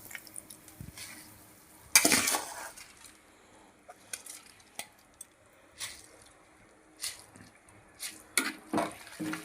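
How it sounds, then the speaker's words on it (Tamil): Rice is tipped into a pot of boiling water while making tomato rice, giving a sudden loud splashing rush. Soft wet squelches, drips and stirring clinks follow quietly. "இப்போ நம்ம அரிசியை ஆட் பண்ணிடலாம்."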